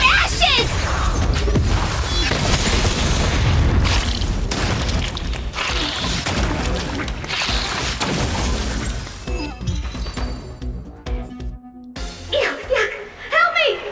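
A big fiery explosion in Honkai: Star Rail, rumbling booms and shattering crashes over the first several seconds that fade into scattered mechanical sounds, with game voices throughout.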